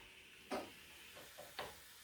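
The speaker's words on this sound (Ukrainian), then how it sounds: "Тепер кидаємо туди одну таблетку для чистки посудомиючих машин." A dishwasher cleaning tablet dropped into a pot of boiling water gives three or four quick, faint fizzing and bubbling bursts against a soft steady hiss, close up and with no speech.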